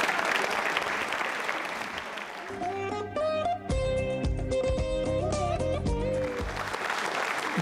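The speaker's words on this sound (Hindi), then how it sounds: "रिया के लिए तालियां जोरों से बजाइए, जोरदार तरीके से तालियां बजनी चाहिए" Audience applause on a televised quiz show about Yoga Day, a dense sustained clapping that swells, briefly gives way to a musical sting with tones, then returns loudly to the end.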